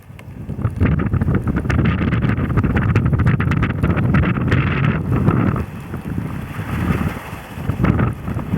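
A north wind blowing straight onto a small home wind turbine in winter, its blades spinning, a loud, continuous rushing and buffeting that eases slightly near the end, with no speech.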